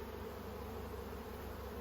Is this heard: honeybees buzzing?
yes